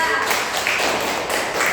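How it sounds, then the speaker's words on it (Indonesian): Children in a classroom clap for group 2, a brief dense patter of many hands, steady and close throughout. "Tepuk tangan untuk kelompok 2"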